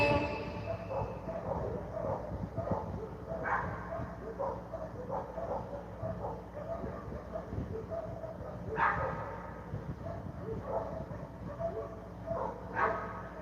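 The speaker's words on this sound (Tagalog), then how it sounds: "Ayan, nag-iingayan yung mga aso, nagtatahulan." Several dogs barking back and forth at a distance, sharp intermittent yips and barks scattered over a low background rumble, fairly faint throughout.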